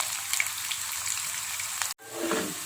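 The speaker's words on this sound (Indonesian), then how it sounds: "Tempenya kita goreng garing ya." Tempeh fries crisp in hot vegetable oil, a steady close crackling sizzle with fine popping, briefly cut off by a sharp break before the bubbling resumes.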